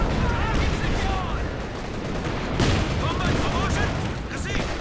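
Artillery barrage in Company of Heroes 2 during a 2v2 match, a dense continuous rumble of explosions and gunfire with whistling incoming shells, loud throughout, with voices talking over it.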